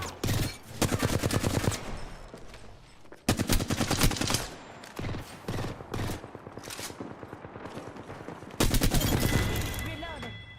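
Rapid bursts of automatic gunfire and single shots in a squad-based shooter video game, loud and dense with short pauses between volleys, while players talk over the action.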